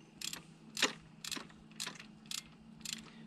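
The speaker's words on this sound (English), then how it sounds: "and then we'll torque them down" A ratchet wrench torques intake manifold bolts on a Chevy 5.3 V8 engine, giving about six short, quiet ratcheting bursts at a steady, unhurried pace with nobody speaking.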